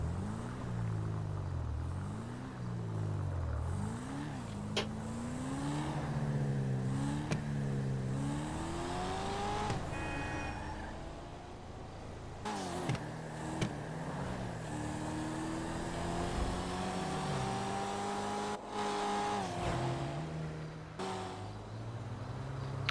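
The Coquette sports car in a video game drives off down the road, its engine revving up and down through repeated gear changes with a steady rumble and occasional sharp clicks, alone with no talk.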